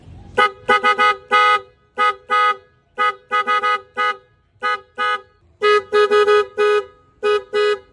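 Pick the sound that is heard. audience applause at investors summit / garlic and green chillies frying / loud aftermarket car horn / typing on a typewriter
loud aftermarket car horn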